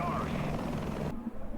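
A French Tiger HAD Block 2 attack helicopter in War Thunder gives off a steady rotor and engine drone that cuts off abruptly partway through, leaving a lower rumble.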